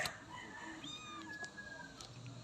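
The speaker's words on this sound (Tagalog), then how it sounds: "Ito ang pusa." A pet mother cat meows several times up close, the short rising calls standing out over low household background noise.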